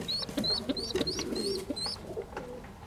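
Three-week-old feral pigeon and dove chicks cheep in repeated thin, high chirps while low soft coos and rustles come from close by, with the calls fading toward the end.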